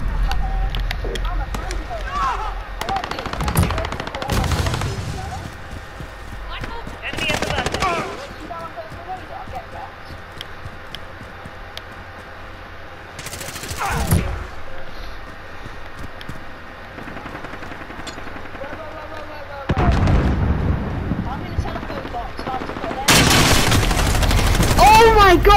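Gunfire in the Call of Duty video game, loud bursts of shots erupting several times in short volleys over steady background game noise, with a voice talking between them.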